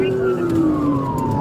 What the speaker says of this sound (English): Turn my light sirens on.